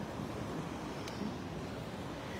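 Sea waves washing onto a clean shore, a steady broad rush of surf mixed with wind noise on the microphone, continuous and fairly even in loudness with no speech.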